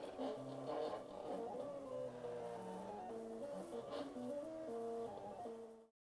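A Silhouette cutting machine slices paper on a mat with a faint, whirring motor hum that shifts pitch in stepped runs as the blade moves, steady for several seconds before stopping abruptly.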